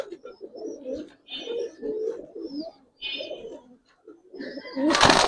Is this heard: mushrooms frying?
no